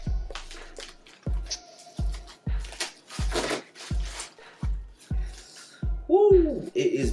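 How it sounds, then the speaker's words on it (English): A PS5 console being unwrapped from its packaging, with regular soft plastic crinkles and thumps about once a second, close and moderately loud, with a voice speaking at times. "Just gonna try to unwrap this neatly."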